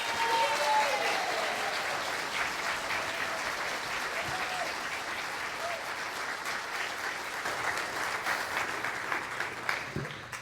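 Audience in a church hall in Santa Rosa giving a reverend sustained applause, a dense even wash of clapping that slowly thins toward the end.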